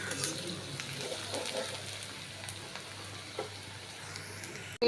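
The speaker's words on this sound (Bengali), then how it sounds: "পেঁয়াজটা ভাজা ভাজা করে নেব।" Onion frying in a little hot oil in a pan, a soft, steady sizzle with faint crackles and one or two light stirring taps, quiet and close with no talking.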